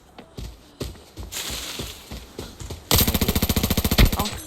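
Rapid automatic gunfire in the shooter game Arena Breakout, scattered single shots first, then a loud, fast sustained burst of evenly spaced rounds up close.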